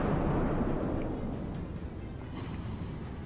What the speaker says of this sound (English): Looks like the Wix hit him with some of his torpedoes.